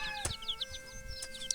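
Chickens in a cold rural village cluck in short, quick bursts close by, a few squawky calls overlapping briefly over a faint steady background tone.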